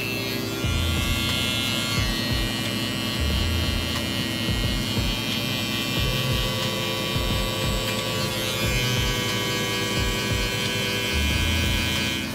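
Electric hair clippers buzz steadily while lining up the back of a curly-hair burst fade, a close, continuous hum with short repeated bursts of louder cutting passes and no talk.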